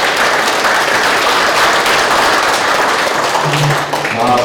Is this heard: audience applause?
yes